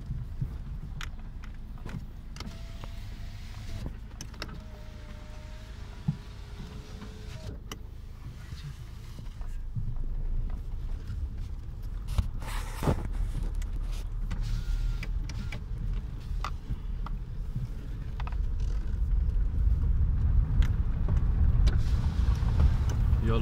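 A truck approaches along a village road during roadworks: a low engine rumble builds gradually and grows louder toward the end, with scattered faint clicks and no talk.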